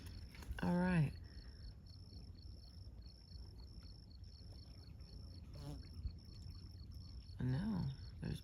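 Insects chirping outdoors in the wild, a faint, steady pulsing trill running throughout, with people whooping and hollering in short bursts near the start and end.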